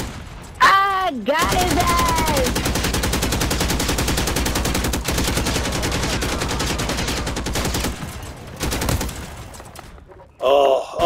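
Rapid pistol shots in a video game ring out in a long, loud, continuous burst that runs for several seconds. Someone shouts excitedly over the start and end of the firing.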